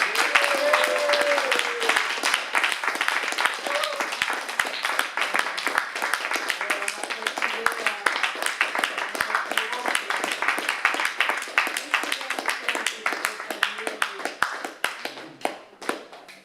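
Sustained audience applause at a closing evening in a cultural centre, many hands clapping steadily for over fifteen seconds and fading toward the end, with faint voices underneath.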